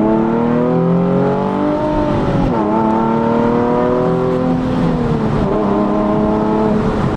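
A Nissan 370Z Nismo with a full aftermarket exhaust drones loudly and steadily while driving, its engine note rising and falling through gear changes, heard close from inside the car.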